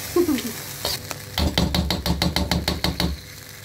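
Yogurt being mixed into chicken for biryani, a rapid series of wet, knocking stirs against the bowl in a steady rhythm, close and fairly loud, with no talk.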